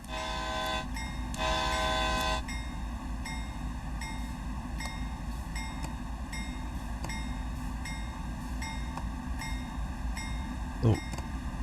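Diesel locomotive idling during shunting on the Boston–Worcester line, with two loud horn blasts early on, the first short and the second longer, over a steady engine rumble and a brief clunk near the end.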